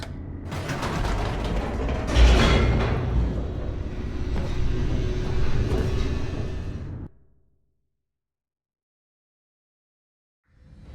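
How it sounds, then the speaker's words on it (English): In the video game The Stanley Parable Ultra Deluxe, an elevator descends with a rumbling mechanical clatter of creaks and rattling gears for about seven seconds, then stops abruptly into silence. "The elevator raced downward, plummeting towards an unknown fate."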